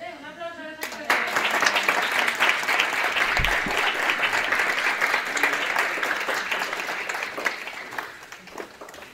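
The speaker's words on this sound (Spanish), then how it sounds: "Un aplauso a los expertos." A church congregation bursts into sustained applause during a Sunday service, a dense, steady wash of clapping that swells quickly and holds for several seconds before thinning out at the end.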